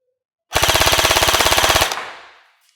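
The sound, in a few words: Specna Arms Edge airsoft gun firing full auto at muzzle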